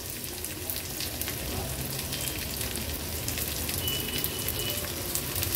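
Garlic, ginger and onion sauté in hot oil, a dense, continuous close sizzle with faint crackles and no voices.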